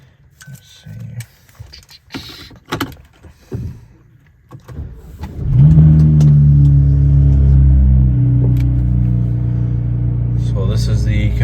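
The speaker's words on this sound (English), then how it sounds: "Go ahead and start the car up." BMW 335is engine cranking and firing up after some interior clicks and handling noises, then settling into a loud, steady rumbling idle close by, with a voice speaking briefly.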